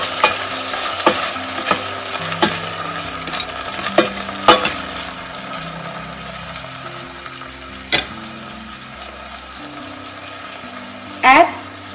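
A spoon stirs a salted mix in a pan while it sizzles and fries steadily, with scattered scrapes and clinks against the pan and one sharp knock near the end, with no talking.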